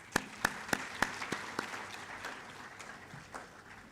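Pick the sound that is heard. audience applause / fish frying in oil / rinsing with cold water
audience applause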